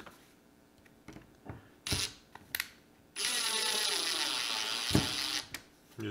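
A drill drives a screw through a small foot into a wooden cutting board, with a few clicks and knocks before a steady whirring run of about two seconds, then a thump and a brief further burst.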